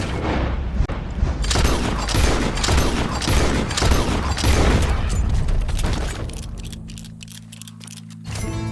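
Repeated gunshots in the Red Dead Redemption western game, a fusillade of loud, close cracks in fast succession that thin out and fade, followed by a low hum and a final sharp report.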